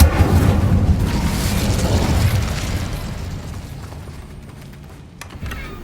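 Incendio fire spell blast in the video game Hogwarts Legacy, a loud deep whooshing burst of flame at the start that rumbles and slowly fades over several seconds.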